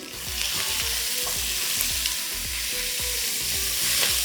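Chopped green chillies sizzle steadily in hot oil for Andhra chilli chicken, with a spoon scraping the pan in a regular stirring rhythm.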